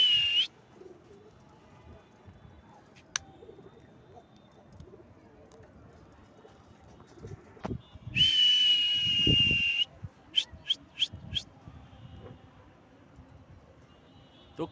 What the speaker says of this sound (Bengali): কবুতরগুলো উড়ে সুন্দর